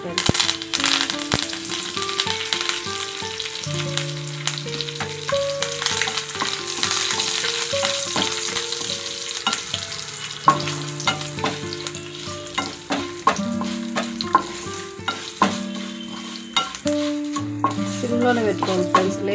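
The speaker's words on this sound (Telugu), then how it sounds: "వేగింది ఫ్రెండ్స్ తాలింపు, వేగింది తాలింపులన్నీ." Dry red chillies and curry leaves sizzle and crackle steadily in hot oil for a tempering, a continuous close frying hiss with stirring, while soft tonal music plays underneath throughout.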